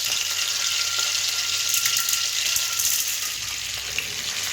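Chana dal sizzles and fries in hot oil in a pan, a steady, dense crackle close up with no talking.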